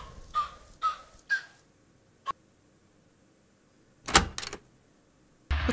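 An indoor door is tried and rattled in a few short bursts, with a sharp click and then a louder clattering shake of the handle or frame. Quiet stretches sit between them, and there is no talk.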